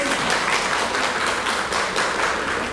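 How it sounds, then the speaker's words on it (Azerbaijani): Audience applause fills a hall at a school psychologists' conference, steady dense clapping from a crowd for the whole stretch. "Mən bu alqışı özümə yox, bizim komandaya olan bir alqışdır."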